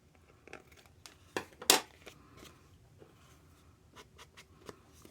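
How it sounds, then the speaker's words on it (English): Scissors cutting along the edge of a paper junk journal tag, a few quiet snips and rustles close by with one sharper crisp cut in the middle, no voices. "Now we can just cut the edge."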